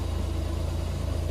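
Polaris Ranger 1500 4x4 UTV, adapted for joystick driving, runs with a steady low engine drone throughout, an even continuous rumble with no clear rev rise.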